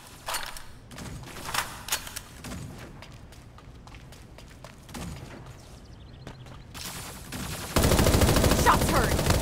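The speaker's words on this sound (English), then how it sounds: "Shots heard!" Gunshots in the Super Mecha Champions video game, scattered sharp shots and quick bursts at moderate loudness, followed by a sudden louder wash of game sound near the end.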